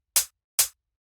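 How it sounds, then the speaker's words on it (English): Two sharp, bright hi-hat hits from a fast Copenhagen-style techno pattern, evenly spaced on the upbeats, each a crisp short burst fading quickly, close and alone. "After that, we have this first hi-hat,"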